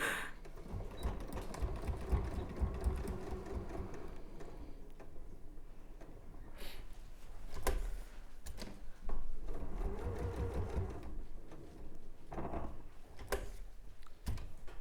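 A sewing machine stitches a quilt with a continuous rapid mechanical ticking that varies slightly in pace, accompanied by faint background talk.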